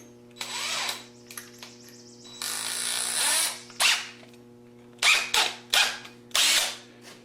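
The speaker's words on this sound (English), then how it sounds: "we'll drill all these holes first because it'll be a lot easier to do it now before it's put together" Power drill boring shelf-pin holes into a cabinet side for a 30-inch upper kitchen case, a series of short whirring bursts of varying length with pauses between, close and clear over a faint background hum.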